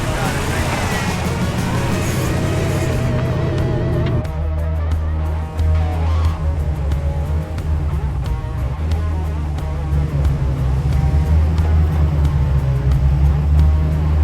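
An off-road vehicle's engine roars loud and steady on a coastal mountain trail above Santa Barbara, a deep continuous rumble with slight shifts in pitch as it drives on, a voice talking over it at times.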